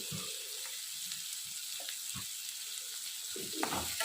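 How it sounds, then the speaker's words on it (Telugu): Cashews and coriander lightly frying in a pan for paneer curry, a steady close sizzle and crackle with a few soft stirring scrapes and clinks, no talking. "ఇవి కూడా లైట్గా ఫ్రై చేసుకుందాం."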